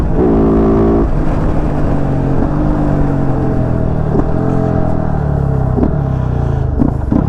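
A KOVE 450 Rally motorcycle engine revs loudly and close up, one long sustained rev followed by a steady throbbing idle with repeated small throttle blips.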